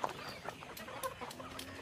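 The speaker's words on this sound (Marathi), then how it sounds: "इथे आपल्या कोंबड्या सर्व चरतात बघा।" Free-range desi chickens foraging on a poultry farm give off soft, scattered clucks and brief calls at close to middle distance, continuous low farmyard activity with no talking.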